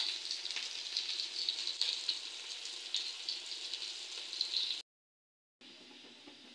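Potato and pointed gourd pieces fry lightly in oil, giving a steady, close crackling sizzle. The sizzle cuts out briefly near the end and then resumes.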